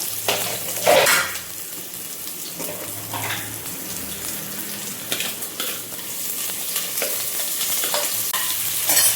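Onions fry in oil with mustard seeds and fennel, a steady close sizzle running throughout with periodic spatula scrapes and stirs, no voices.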